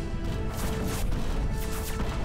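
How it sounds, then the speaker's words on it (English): Torpedoes strike a ship in the naval video game Waves of Steel, a loud, dense run of crashing, thudding impacts that rolls on without a break for about two seconds. "Have some torpedoes in your face!"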